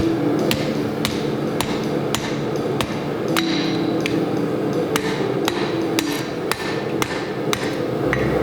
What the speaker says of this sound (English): I just go ahead and put an edge down on the anvil